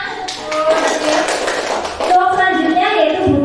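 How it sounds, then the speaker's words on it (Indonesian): A live audience claps at a school teachers' practice session in Indonesia, a dense patter of hands through the first two seconds, with a voice and tonal sounds carrying over and after it. "beri tepuk tangan"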